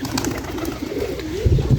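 Pigeons kept in a loft coo in low, soft, repeated calls close by, with a rustle of other noise and a couple of slightly louder coos near the end.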